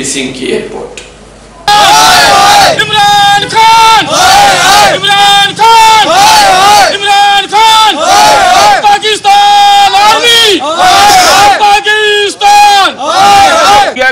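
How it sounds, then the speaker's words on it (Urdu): Protesters in Poonch shout loud rhythmic slogans against Pakistan's army and government, a massed crowd answering a leader in repeated call-and-response bursts, very loud and close after a short quieter opening. "وہاں کی آرمی اور حکومت کے خلاف زوردار نعرے بازی کی"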